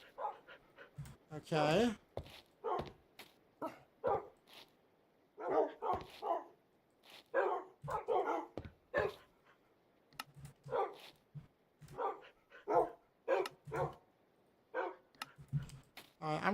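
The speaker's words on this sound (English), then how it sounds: "This is just doggies galore." Repeated short dog barks and yips from Minecraft, scattered and fairly close over a quiet background with keyboard clicking, while a voice speaks briefly.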